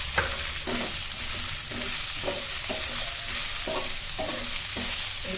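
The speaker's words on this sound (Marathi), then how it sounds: "एक 2 ते 3 मिनिट आपण चांगलं भाजून घ्यायचं." Cabbage, green beans and spring onion for veg fried rice being stir-fried in a pan, a constant loud sizzle with a regular scraping stir of the spatula about once a second, close up and with no talk.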